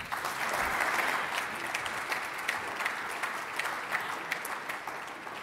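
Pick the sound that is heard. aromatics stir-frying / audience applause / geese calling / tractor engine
audience applause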